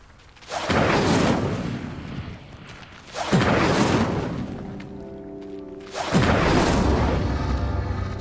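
Fire spell flames bursting over pyres in Hogwarts Legacy, three loud whooshing roars that each swell, sustain for about two seconds and fade, repeating at steady intervals.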